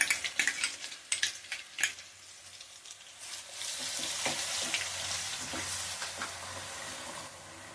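Ginger-garlic paste sizzles in hot oil on a stove for a Telugu chicken pickle, starting with a few sharp clinks and scrapes of a spoon, then settling into a steady, close hiss of frying with no voices.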